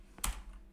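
A single quick keystroke clacks on a computer keyboard, close and faint, with a brief soft click just before it, no talking.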